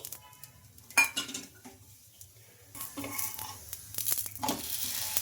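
Rumali paratha cooking on a pan as oil is applied, with soft sizzling, light stirring and the scrape and clink of utensils against the pan, fairly quiet and close with no talking.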